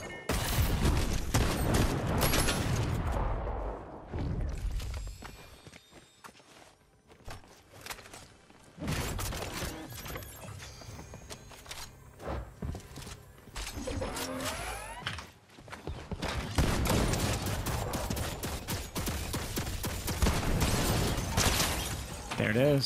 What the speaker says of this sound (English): Is that turret hitting him the whole time?